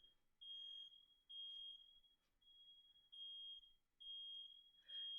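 Home smoke alarm set off by cooking, sounding a shrill high-pitched electronic beep in long repeated pulses with short gaps, steady and piercing over a quiet room.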